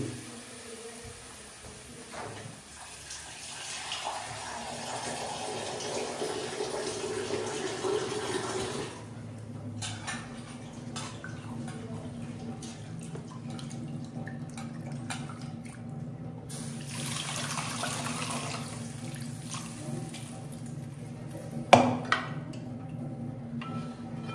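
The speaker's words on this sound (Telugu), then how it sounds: "ఎంత కావాలో అంత నీళ్ళు పోసుకోవాలి." Water poured into a cooking pot in a home kitchen, a soft running and trickling flow that continues under quiet room noise, with a sharper clink near the end.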